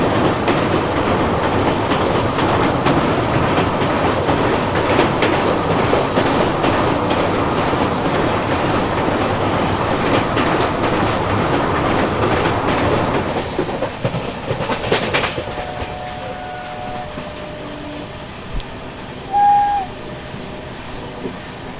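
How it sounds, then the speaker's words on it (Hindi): The Dibrugarh Rajdhani Express running at speed, heard from inside a 2nd AC coach: a loud, steady rumble with rhythmic wheel clatter that fades after about thirteen seconds into quieter cabin sound with brief tones. "अपनी राजधानी ताबड़तोड़ फिलहाल यहाँ पे भाग रही है"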